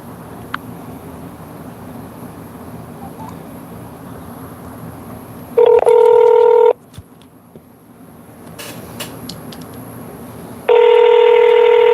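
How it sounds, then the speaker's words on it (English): Two bursts of telephone dialing tones, each lasting about a second, sound clearly over a low background hiss, with a quiet gap between them as a phone call is placed. "So Johnny, we're going to go ahead and get you on the phone now."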